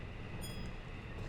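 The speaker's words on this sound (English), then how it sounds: "the motor sounds and the run sounds are all nicked from one of the EMUs over in Return of ATS 2" Electric multiple-unit motor whine and running noise from a train in the Train Drive ATS bullet train game, a steady dense rumble with faint high tonal hum, continuous and close throughout.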